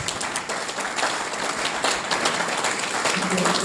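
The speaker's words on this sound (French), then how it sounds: "On applaudit le personnel administratif." Audience applause for administrative staff at an international colloquium at Cheikh Anta Diop University in Dakar, a steady moderate clapping that holds at an even level for several seconds with some voices mixed in.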